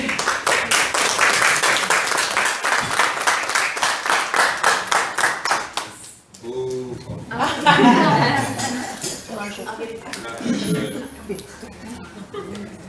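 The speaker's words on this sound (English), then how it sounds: "let's have a huge round of applause for Brewster" An audience at a café open-mic night applauding a performer, a burst of dense rhythmic clapping that fades after several seconds into chuckles, laughter and someone talking.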